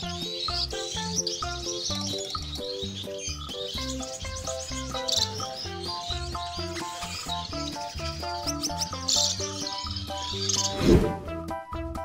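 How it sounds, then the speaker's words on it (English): High, rapid twittering goldfinch song runs continuously over steady background music, bright and busy throughout. "Golden finch."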